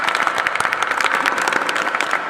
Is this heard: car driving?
no